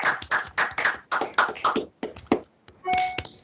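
Scattered clapping in a virtual village board meeting: a few separate hands patting out quick, uneven claps, close and fairly loud, with no speech over them.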